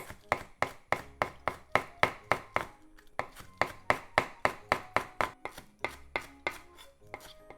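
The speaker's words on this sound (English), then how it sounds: "And just slice." A knife slicing chives on a cutting board in a home kitchen makes a fast, even series of crisp, close taps that pause briefly midway and then resume.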